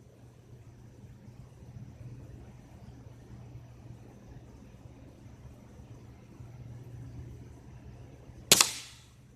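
A Daisy B.B. gun rifle fires one sharp, close shot near the end, breaking a long stretch of low steady background hum.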